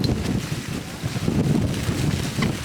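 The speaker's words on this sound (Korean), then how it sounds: "바람이 진짜 점점 세죠?" Strong wind gusts across a rainy, fog-covered mountain campsite, roaring and buffeting the microphone in a loud, continuous rush with shifting surges.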